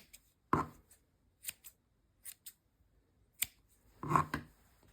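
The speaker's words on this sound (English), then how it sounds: "I'm going to trim these long ones here." Scissors snipping through yarn loops to trim a pom-pom for a crochet beanie, about seven crisp, close cuts spaced irregularly, a couple of them in quick pairs, with quiet pauses between.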